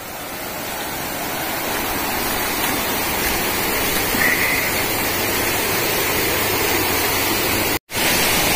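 Leke-Leke waterfall and river in Tabanan, Bali: a steady, loud, broadband roar of rushing water fills the whole stretch, close and unbroken apart from one brief dropout near the end.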